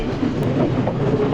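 A train rolls along rails on Sri Lanka's slow hill-country line, riding the Vistadome carriage, giving a steady, loud rumble with a faint rhythmic clatter of the wheels throughout and no voices.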